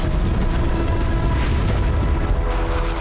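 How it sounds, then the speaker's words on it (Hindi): Rocket fire and explosions strike David Ramat airbase in northern Israel during a Hezbollah attack, a sustained loud, dense booming rumble that continues without a break throughout. "इस बेस पर हिजबुल्लाह ने कई रॉकेट फायर किए।"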